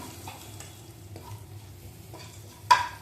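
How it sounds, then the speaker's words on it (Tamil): Brinjal thokku being stirred and sautéed in a pan over a medium flame, a faint sizzle with soft scraping stirs and one sharper clink of the utensil near the end. "மீடியம் ஃப்ளேமில் வச்சு கொஞ்சம் நல்லா சேர்த்துற அளவுக்கு வதக்கி விட்டுக்கலாம்"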